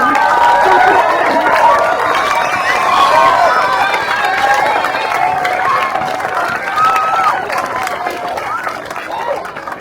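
A crowd at a community gathering cheers and applauds loudly. Many voices blend into a sustained, dense roar that holds for about ten seconds.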